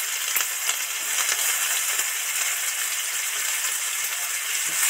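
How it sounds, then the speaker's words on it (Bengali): Chopped onion hits salted hot oil for a duck egg curry, giving a steady, bright sizzling hiss with scattered small crackles and pops that holds evenly throughout, close by and with no talking. "আগে এই কুচো পেঁয়াজটা দিয়ে দিচ্ছি"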